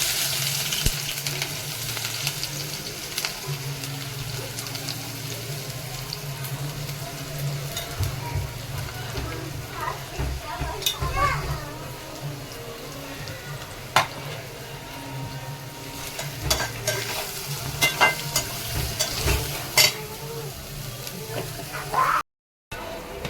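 Green chillies and onion hit hot oil in a pan for a spicy village-style egg dish, giving a steady crackling sizzle with occasional stirring clinks while someone talks over it.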